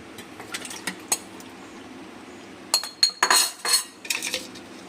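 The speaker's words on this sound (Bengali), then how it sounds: "এবার আমি মিক্সচার করে নেবো আমটা সবটা দিয়ে" A metal spoon stirs a mango mixture in a bowl, giving a few light clinks at first and then a quick cluster of louder scrapes and taps against the bowl, close up in a quiet kitchen.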